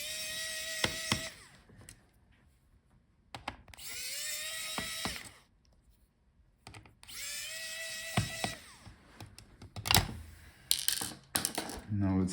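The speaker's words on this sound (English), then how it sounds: "Let's unscrew the screws for the fans." Screws holding the cooling fans in a Lenovo Legion 5 Pro 15 laptop are backed out with a screwdriver in four short whirring bursts, each rising slightly in pitch, with small clicks and handling noises in the pauses between, close up and without talk.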